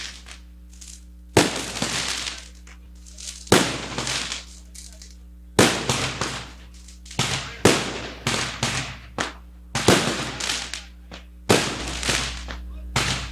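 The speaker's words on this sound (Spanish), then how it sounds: "Un aplauso para los fuegos artificiales también." Fireworks in Vélez, Santander, go off in a rapid series of about eight sharp, loud bangs with crackling tails, over a steady low hum.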